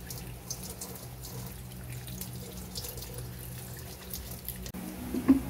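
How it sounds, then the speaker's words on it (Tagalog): Water runs steadily from a tap into a pot for boiling soursop leaves, a soft continuous splashing rush at low level with a faint clink near the end. "Maglagay tayo ng tubig at pakuluan natin ng 30 minutes."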